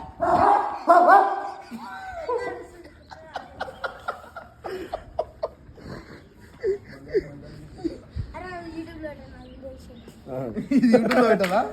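A dog barks in short repeated bursts amid people chattering and chuckling nearby, with louder overlapping voices at the start and end.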